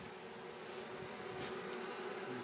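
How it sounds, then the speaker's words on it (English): A swarm of honeybees fans on a porch, giving a faint, steady, close buzzing hum with no voices over it. "They're pooch fanning"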